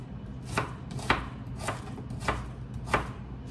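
A knife chops onions on a board in five evenly spaced sharp knocks, each crisp and close, over a quiet room hum with no speech.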